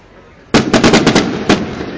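At a Fourth of July display in West Allis, Wisconsin, fireworks break into a sudden loud barrage of rapid, closely spaced cracks and bangs, with one more sharp report after a brief gap, then a fading rumble.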